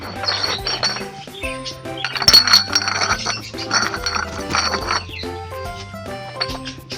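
Washed glass bottles are stacked in rows of a hundred, knocking together in bright, irregular clinks and chinks, some in quick clusters and some alone, close to the microphone.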